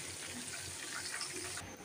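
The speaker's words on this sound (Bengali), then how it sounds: "আমি এখন একটু হালকা জলের পানি দিয়ে দেবো।" Water is poured into roast meat frying in a pan, giving a brief, steady splashing gush with a sizzling hiss underneath, heard close up with no talking.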